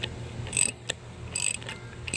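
An 18 mm wrench tightens nuts on a 2011-2023 Dodge Charger with the 3.6L Pentastar during an engine and transmission swap, producing close, repeated bursts of rapid ratcheting clicks separated by short pauses.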